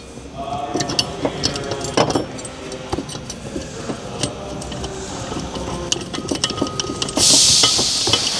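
A ratchet with a 14 socket tightens hardware during an Air Lift Performance suspension install on a Dodge/Chrysler. Close, quick mechanical clicks recur among shop clatter, with a louder burst of hissing noise near the end.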